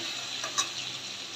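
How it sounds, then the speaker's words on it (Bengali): Spice paste of garlic paste, salt, turmeric and coriander leaves fries in hilsa fish oil in a wok, making a faint, steady hiss with one soft stirring tap. "মশলাটা আমি একটু কষিয়ে নিই।"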